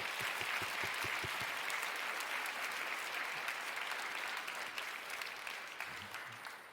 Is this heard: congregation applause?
yes